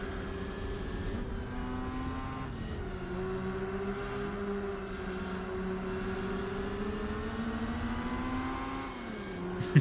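A car engine in Gran Turismo 4 revs and drones, its pitch climbing and dropping through several gear shifts, with a synthetic, game-like quality and no talk.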